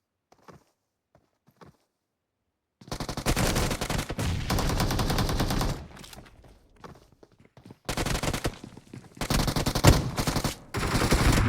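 Bursts of automatic gunfire from the PUBG Mobile battle royale game, loud rapid volleys broken by short pauses, with scattered quieter shots and faint footsteps in the gaps between them.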